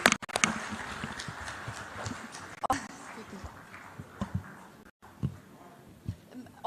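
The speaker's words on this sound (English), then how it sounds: "Give a big round of applause," Audience applause rises for dignitaries being welcomed to the dais at a formal ceremony, a dense crackle of clapping that swells and fades with a few sharper claps, heard alone without talk.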